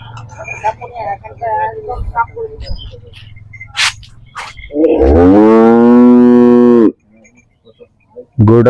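A dairy cow at a cattle farm lets out one loud, long moo close by, following some brief talking and knocking sounds; a short voice returns at the end.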